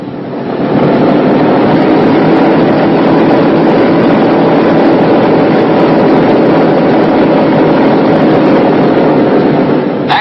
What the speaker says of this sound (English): Back slowly on the throttle because of the induction backfire hazard. Same procedure on all engines.